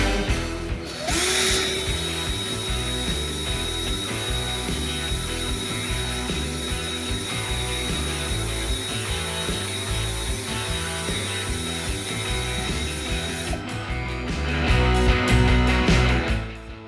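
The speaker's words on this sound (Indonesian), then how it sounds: "saya uji kecepatan putaran tanpa beban dari bornya" A Kova 20V cordless impact drill runs with no load, giving a steady, close motor whine that holds level for most of the span before rising slightly near the end.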